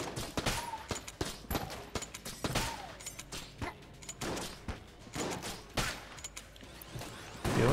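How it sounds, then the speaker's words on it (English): Crossbow shots and other gunfire in the game Enter the Gungeon, a run of sharp repeated bursts with mechanical clicks, fairly close and moderately loud, with no speech. "We're doing better at shooting with the crossbow."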